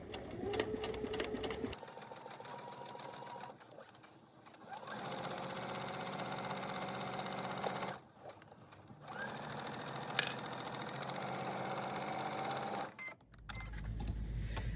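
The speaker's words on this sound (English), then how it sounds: "And I'm going to stitch in place. And stitch right out to the edge." A sewing machine stitches a mitered corner in striped fabric, humming in a steady close run with short pauses between bursts of stitching and a brief click near the end.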